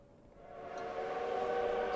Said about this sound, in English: A train is here.